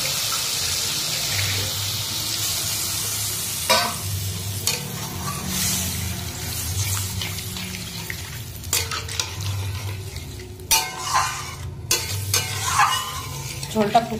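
Spiced potatoes sizzle in a pan, and water poured in brings a burst of splashing and bubbling hiss, followed by clattering stirs and spoon knocks that grow more frequent toward the end.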